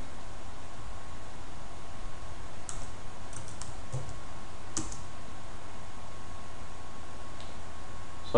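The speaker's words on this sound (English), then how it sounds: "So I type U, press enter" Several crisp clicks of keys typed on a computer keyboard followed by a firmer enter press, close and clear over a steady low room hum with no talking.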